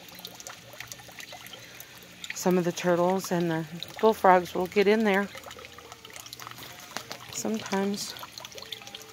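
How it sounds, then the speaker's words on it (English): Water pours and trickles into an outdoor bird bath in a steady stream, with the flow fairly close, while someone talks over it. "I need to add some more water to this bird bath too."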